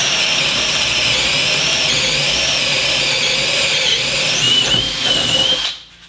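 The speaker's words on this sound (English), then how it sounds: "And let's drill a hole." A Makita brushless drill runs at high speed boring a hole, a steady loud whine held for several seconds with a slight rise near the end before it stops abruptly.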